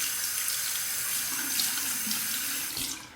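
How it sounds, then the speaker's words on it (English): A razor is rinsed under a steadily running tap, a close, loud splashing water stream that holds for about three seconds and then tapers off. "Let's rinse that."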